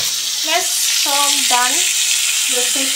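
Paneer frying in a pan on a home stove, a steady broadband sizzle running throughout, with voiced, talk-like sounds rising and falling over it in short bursts.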